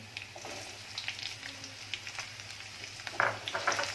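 Chopped onion sautéing in a pan for crispy coriander bhaji: a soft, continuous sizzle with light crackles and occasional stirring scrapes, quiet and close.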